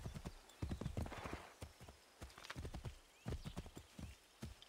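A horse in Assassin's Creed 3 gallops with rapid, close clip-clopping hooves. The hoofbeats come in uneven bursts with short pauses between them, and no one speaks.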